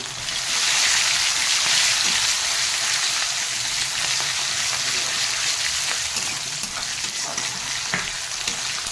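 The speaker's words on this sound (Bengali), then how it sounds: "ছোটো পেঁয়াজটা আমি ছেড়ে দিলাম পেঁয়াজটা একটু লাল লাল বাদামি করে ভেজে নেবো" Small onions and garlic fry in a pan with a loud, continuous, close sizzle that stays steady throughout, with a few faint scrapes and pops mixed in.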